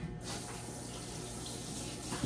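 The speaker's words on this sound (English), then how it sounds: "Rinse my hands real quick." Hands are rinsed under a running kitchen tap, a soft steady stream of water splashing into the sink for a couple of seconds.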